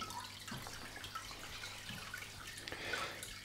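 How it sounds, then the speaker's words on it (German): Water runs into a dwarf shrimp aquarium with a steady, soft splashing and trickling, and faint drips are heard throughout at low volume, with no voices. "Und dann lassen wir das Wasser jetzt schon mal reinlaufen."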